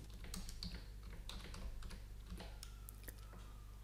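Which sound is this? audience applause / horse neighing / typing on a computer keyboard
typing on a computer keyboard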